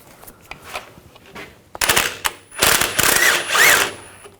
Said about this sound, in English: I'm going to remove this nut.